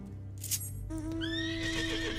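A flying horse mount in the Final Fantasy XIV video game lets out a loud, drawn-out neigh, its whinny rising in pitch and wavering over about a second and a half, heard clearly over a steady game soundtrack.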